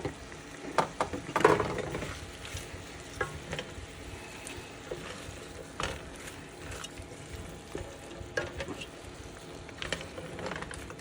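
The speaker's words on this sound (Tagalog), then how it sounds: "Then uhuhulog ko ngayon yung hipon natin." Shrimp dropped into a pan with sautéed aromatics for a coconut-milk dish, a close, moderately loud sizzle with clinks and scraping stirs recurring throughout, no talking.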